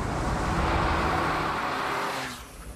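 A Smart Roadster being driven, a steady broadband engine and road roar close by that fades and thins toward the end, with no voices.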